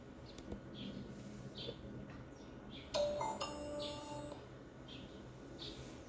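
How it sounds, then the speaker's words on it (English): A small Annke Crater2 security camera emits a brief electronic beep over a faint outdoor background of distant bird chirps and low ambient noise. "That was the beep sound."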